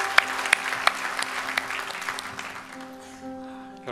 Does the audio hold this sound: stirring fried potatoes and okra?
no